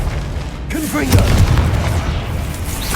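A Confringo blasting spell in the Hogwarts Legacy video game bursts with a deep, booming explosion and rumbling low impact, while a voice calls out over it.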